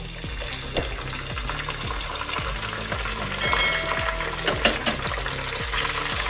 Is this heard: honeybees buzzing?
no